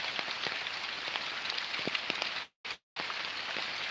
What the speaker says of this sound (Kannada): ಯಾವ ರೀತಿಯಲ್ಲಿ ಮಳೆ ನೀರು ಬರ್ತಾ ಉಂಟು ನೋಡಿ